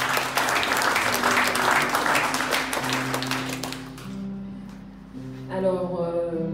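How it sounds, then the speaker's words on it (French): A church congregation applauds and cheers, dense clapping filling the room for several seconds before easing off as sustained music tones rise beneath it. "Acclamez encore"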